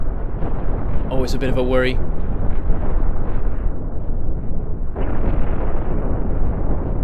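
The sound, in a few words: cannon shots hitting an enemy ship, video game Cosmoteer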